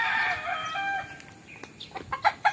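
On a farm, a rooster's drawn-out crow sounds at a moderate distance, followed by several short, sharp clucks from chickens, fairly faint against a quiet outdoor background.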